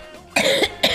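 A person gives two short, loud, close coughs in quick succession, the second one briefer, after a moment of quiet room tone.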